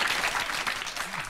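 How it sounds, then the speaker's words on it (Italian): Studio audience applause at a reality TV reunion show, brief and steady, with many hands clapping close together. "Ottima osservazione, facciamole un applauso."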